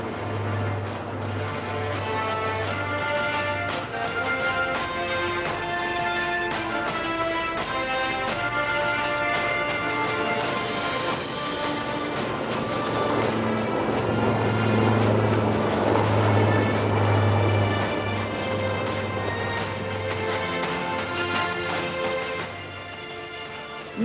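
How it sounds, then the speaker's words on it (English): An HAL Advanced Light Helicopter Mark 1 Dhruv of the Sarang Helicopter Display Team flies at the Aero India 2023 air show in Bengaluru, giving a loud, sustained droning engine and rotor roar that swells and fades as it passes. "behind Prachands, we can now see the Advanced Light Helicopter Mark 1 Dhruv of the Sarang Helicopter Display Team"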